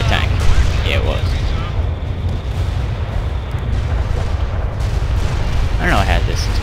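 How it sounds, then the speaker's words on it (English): Artillery barrage in the World in Conflict strategy game, a dense stream of booming blasts and bursts under a constant low rumble, with a voice speaking over the bombardment. "Artillery barrage inbound."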